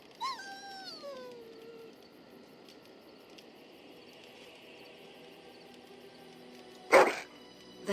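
A dog in the fantasy video game Dragon Age: Origins lets out a falling, wavering howl, followed after a quiet stretch by a sharp, loud bark, all over a soft ambient game background.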